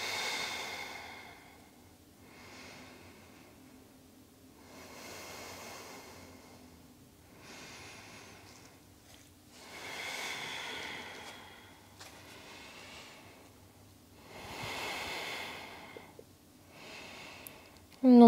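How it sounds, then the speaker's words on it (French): Slow, steady breaths during a beginner yoga pose, about five soft inhale-exhale swells spaced a few seconds apart, close and quiet with no talking. "On reste ici pour 5 respirations."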